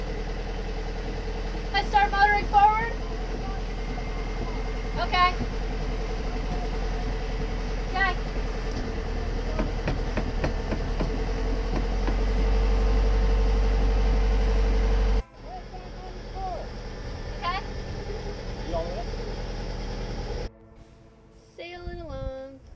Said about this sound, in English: As soon as it breaks free, I'm going to start motoring forward.